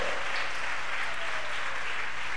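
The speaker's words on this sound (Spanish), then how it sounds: "Dele palmas al rey, hermano" A church congregation claps continuously during a worship service, a dense, steady wash of applause at even loudness with no voices over it.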